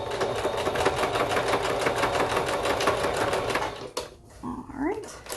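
A sewing machine runs a straight stitch with a back stitch, a rapid steady rattle lasting about four seconds before it stops and is followed by a few soft handling sounds.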